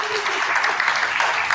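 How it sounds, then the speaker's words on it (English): Applause from a meeting audience for an executive director, a short, dense patter of clapping that holds steady throughout and is fairly loud. "give a big round of applause to our executive director"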